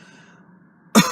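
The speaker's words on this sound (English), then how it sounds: "I can cough a little bit more." A single sharp cough from a person with a painful pulmonary embolism, sleeping outdoors in cold weather, bursts out near the end after a quiet, hushed stretch.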